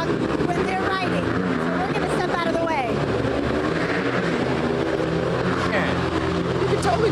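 Circus motorcycle riders rev their engines inside a circus tent, a continuous loud motor drone with rising and falling pitch sweeps as bikes circle, under crowd noise and voices.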